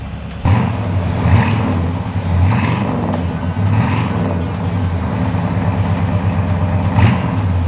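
A 1970 Oldsmobile Cutlass 442 V8 runs close by with a deep, loud rumble, lifting in several short revs before settling back to a lumpy idle, no voices.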